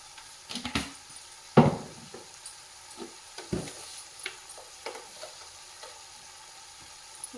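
Turmeric and chili powder fry on a pan, giving a faint steady sizzle. A few soft scrapes and taps from stirring come through, with no talking.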